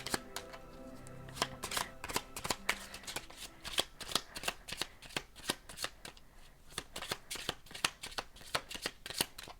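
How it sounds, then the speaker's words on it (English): Gilded Lenormand cards being shuffled, a rapid run of crisp riffling flicks and taps close by, quiet and steady throughout. "We're just pulling all kinds of cards for you today."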